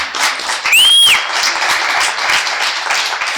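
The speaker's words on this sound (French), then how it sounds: "On l'applaudit." Conference audience applauding, a dense burst of many hands clapping at close range, steady and lively throughout, with a brief whistle-like tone near the start.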